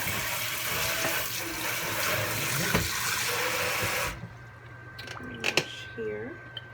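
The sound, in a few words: washing greens in water in a sink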